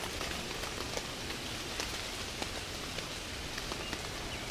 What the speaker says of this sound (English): in the forest in the rain.